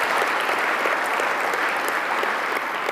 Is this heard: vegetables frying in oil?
no